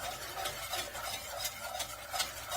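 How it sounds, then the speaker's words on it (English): Flour deep-fries in hot oil, sizzling and crackling steadily in a pan, with soft stirring scrapes now and then, close and fairly quiet. "We are deep frying flour until we get the flavor we want."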